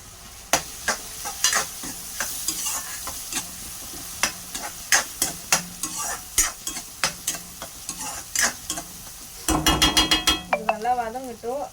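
Onions sauté with turmeric in a hot pan, a spoon scraping and stirring in quick repeated strokes over a soft sizzle, close and clear, with a brief voice near the end.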